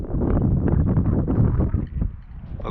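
Wind gusting through the taiga as weather turns and snow begins, a steady broadband rush with rising and falling surges, loud and close to the microphone, easing near the end.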